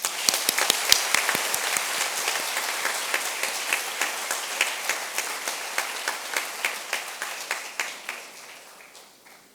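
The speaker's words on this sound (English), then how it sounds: "May we now unleash a big round of applause." Audience at a university day celebration claps after a prize announcement, a broad roar of applause with distinct sharp individual claps popping out across it, gradually thinning and dying away over about nine seconds.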